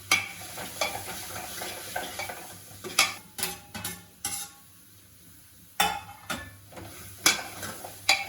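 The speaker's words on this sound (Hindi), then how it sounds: "ऑलमोस्ट सारी सब्जियाँ डल चुकी हैं और अब अपना थोड़ा सा इसको हल्का सा पकाते हैं" Mixed vegetables cooking in a pan, a crackling sizzle broken by repeated scraping stirs of a spoon against the pan, loud and close in uneven bursts with short quieter gaps, no talking.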